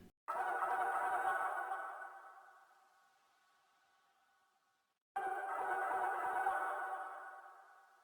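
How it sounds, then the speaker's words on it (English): A sung vocal chop sample with no effects plays dry and clear, fading out over a few seconds, then a second phrase comes in just as loud after a short silence. "I picked out this vocal, added no other effects to it, and this is what it sounds like."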